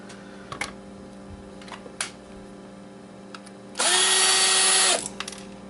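Power drill spinning up once to unscrew Xbox hard drives, a loud steady whir lasting about a second, preceded by faint clicks and handling.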